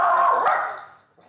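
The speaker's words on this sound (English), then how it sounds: "he obviously has to bark at them to get rid of the animals because he sees them as being a threat" A dog barks at animals it sees as a threat, one loud, close bark trailing off into a brief whimpering tail, then near silence.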